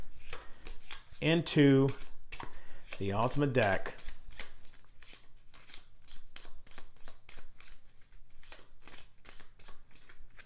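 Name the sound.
shuffling the discard pile of cards for the Scythe board game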